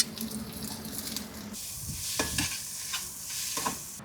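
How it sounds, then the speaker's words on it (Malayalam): Onions sautéing in a pan with green chillies, ginger and garlic, with steady sizzling and a few stirring scrapes, close and continuous. "നമുക്ക് സബോള ഒന്ന് വഴറ്റിയെടുക്കാം"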